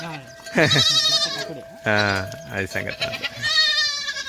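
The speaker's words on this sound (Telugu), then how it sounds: "మేకలు కూడా వచ్చేసినాయి" Goats bleat loudly and nearby in several wavering cries, with a person speaking briefly between them.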